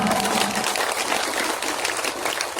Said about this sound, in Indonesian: Ayo kita tepuk tangan semua